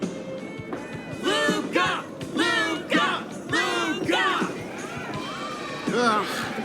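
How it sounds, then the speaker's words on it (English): A large crowd in the video game Luka Companion chants in loud, rhythmic bursts, voices rising and falling in repeated waves over a constant roar. "crowd never gets tired, do they?"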